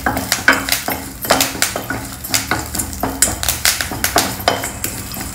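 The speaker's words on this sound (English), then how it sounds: "Dry roast the curry leaves also." Curry leaves dry roasting in a pan, with repeated scraping, stirring and clinks of a utensil against the metal in a steady uneven rhythm, close and fairly loud, with no talk.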